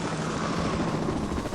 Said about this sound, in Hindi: वो हेलीकॉप्टर को जंगल के ऊपर से उड़ाने लगता है